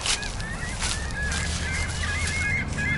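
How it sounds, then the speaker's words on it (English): Several gulls calling loudly at a distance, overlapping honking cries over steady outdoor noise. "There's those loud gulls over there."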